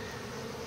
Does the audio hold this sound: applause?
no